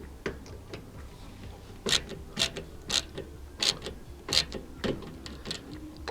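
A screw is tightened on a MrCool 24K BTU mini split outdoor unit, making a close series of sharp ratcheting clicks in irregular bursts with no talking.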